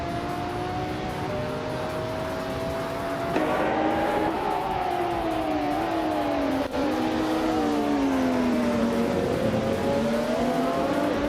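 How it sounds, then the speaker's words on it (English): Vintage supercars, including classic Ferrari, McLaren, De Tomaso and Lamborghini models and a 1995 McLaren F1 LM, race around a track, their engines droning and revving with a steady whine that rises and dips in pitch through gear changes, with no talk. "vintage supercars are pushing their limits on this track"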